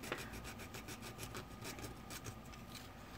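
Steady scratchy rasping of sandpaper rubbing a custom car hood, continuous and close, with faint rhythmic strokes and no talking.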